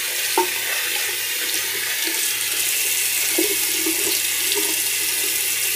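Running tap water pouring steadily into a sink while rinsing off after a shave, a constant close hiss and splash lasting the whole time with faint clinks underneath.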